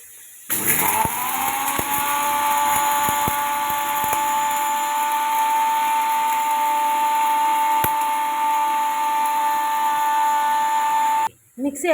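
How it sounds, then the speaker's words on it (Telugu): A mixer grinder powders roasted spices in a loud, continuous high whine that starts abruptly, holds steady for about ten seconds, then cuts off, heard close up with no talk. "అది వేగిపోయేలకి మిక్సీ పౌడర్ పట్టించుకున్నాను."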